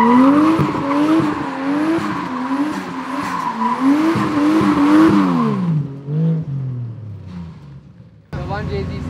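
A drift car's 1JZ engine revs hard and changes pitch repeatedly while tyres squeal through continuous drifting at a Singapore car festival, then the engine noise winds down near the end.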